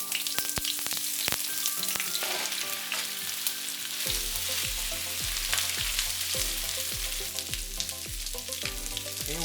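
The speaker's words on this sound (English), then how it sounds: "Now we're going to add the pork." Pork hitting olive oil in a pan over high heat sizzles loudly and continuously, with crackling pops and sharp clinks of a utensil against the pan, all close by and free of talk.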